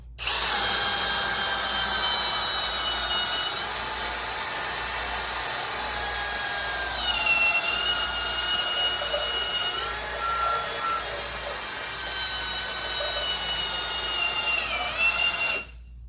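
A Milwaukee cordless drill whines steadily at high speed for about fifteen seconds, its pitch dipping briefly as it bores into wood, then winding down.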